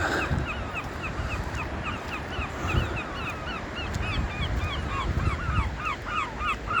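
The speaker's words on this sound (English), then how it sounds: "The birds won't mind." Seabirds call on a wide tidal beach at Blackpool at low tide, their repeated squawks and cries overlapping steadily against a constant wash of wind and shallow water, with a few louder calls standing out near the end.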